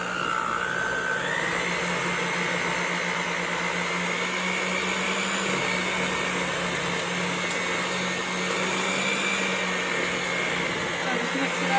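An electric mixer whipping thick cinnamon roll cake frosting, a steady loud motor whir with a high whine running unbroken throughout.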